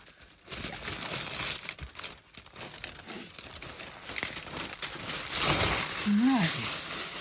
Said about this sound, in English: Get a shot of that crinkly paper.